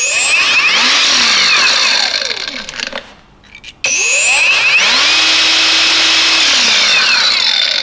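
Cordless 18V brushless angle grinder, a knock-off of a Makita, with no disc fitted, spinning up to a loud high whine with rising pitch, winding down to near silence, then spinning up again and holding a steady scream.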